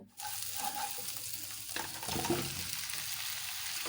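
Mustard, ginger and garlic paste frying in oil sets up a soft, close sizzle with a few stirring scrapes, slightly louder toward the end, alone without speech.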